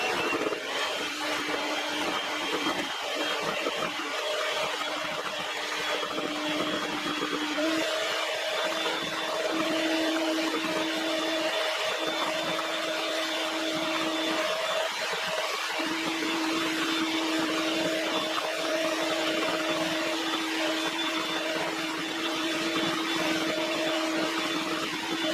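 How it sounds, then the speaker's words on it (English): Electric mixer beating maple syrup pie filling for fudge nut pie until foamy, a steady whirring motor hum with a slight pitch shift midway, continuous and close with no voices. "Alright, beat until foamy."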